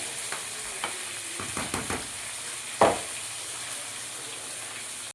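Quiet, steady sizzling of pumpkin frying in a pan with salt, turmeric and sugar, a few scraping stirs and one sharper clatter partway through.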